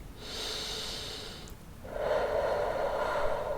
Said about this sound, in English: So inhale and exhale.